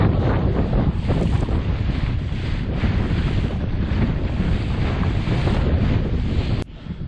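Boat motoring across a choppy lake during a fishing trip, with steady engine drone, water slap and heavy wind buffeting the microphone throughout, close and loud, ending in a brief knock.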